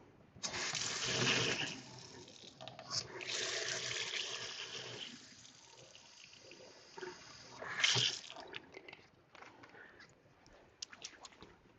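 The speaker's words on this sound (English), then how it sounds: "I'm going to like put a little bit of warm water in here and shake it up" Warm water runs from a kitchen tap into a salad dressing bottle in bursts of splashing flow, followed by sloshing and rattling as the bottle is shaken; close by, uneven, with quiet gaps between.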